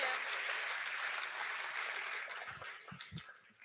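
Applause from a crowd at a Hack the Hill hackathon opening ceremony, welcoming a speaker to the stage: a moderate, even patter of clapping that thins out toward the end, with a few louder individual claps and thumps near the close.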